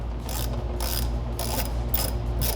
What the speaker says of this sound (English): 15mm socket, short extension, and a 3/8 drive ratchet